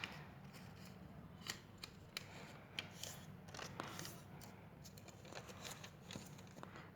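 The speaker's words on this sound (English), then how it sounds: "First step is folding this paper diagonally 2 times." Paper being folded diagonally for a Diwali lantern craft, soft close crinkles and sharp creasing snaps scattered irregularly over a quiet background, no talk.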